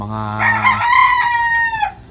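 A pet rooster crows once, close and loud, its long call rising and then trailing off over about two seconds, with another bird audible briefly at the start.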